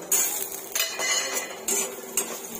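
Raisins stirred in hot ghee in a metal pan, a spoon scraping and clinking against the pan in several distinct strokes, close and fairly quiet with no voices.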